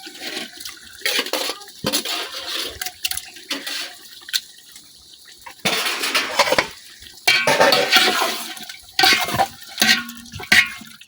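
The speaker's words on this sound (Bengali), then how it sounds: "মাংসের সাথে মশলাটা খুব ভালোভাবে মিশিয়ে নিলাম।" Chicken pieces tossed with fried spices and salt in a pot, stirred by hand in a village kitchen: bursts of scraping, clattering spoon-on-metal and wet squelching come in uneven spurts with short quiet gaps, close and fairly loud, no talking.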